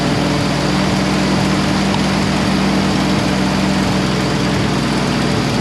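A Jeep Willys engine idles steadily and loudly, a continuous droning rumble with a faint rattle, running alone without any talk.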